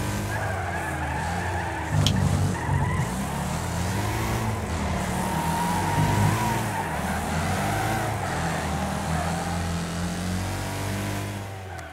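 A race car skidding on dirt at Espedalen Raceway in Wreckfest, tyres scrabbling under a loud, steady engine roar that surges and drops as the car slides and slows.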